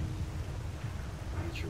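Steady rain in the game S.T.A.L.K.E.R.: Call of Pripyat, a continuous broadband hiss with low rumbling texture filling the whole stretch at a moderate level, with no speech.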